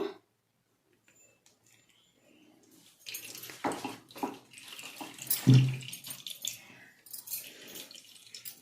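Aloe vera juice being filtered for a henna hair dye mix trickles and splashes faintly after a quiet start, with irregular drips and pours up close.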